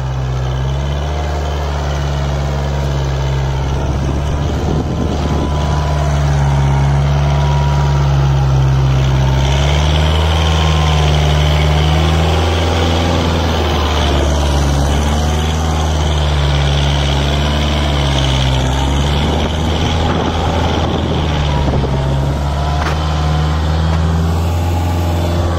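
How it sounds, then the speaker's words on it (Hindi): A heavy Kubota tractor engine pulling a harrow drones loudly and continuously up close, its deep rumble rising and falling as it works under load, the front lifting off the ground. "ट्रैक्टर नाच रहा है अब।"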